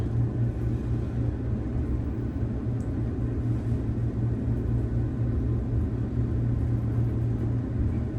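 A 1975 Westinghouse traction elevator with modernized controls runs in a hotel shaft, giving a steady low rumble and hum with a constant drone throughout and no voices.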